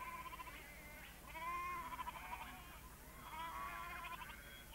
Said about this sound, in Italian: L'uomo ha poi introdotto nell'isola altri animali come le capre, molte delle quali sono divenute semiselvatiche.